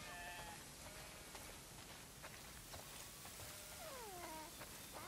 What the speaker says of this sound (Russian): Ого, сколько овец.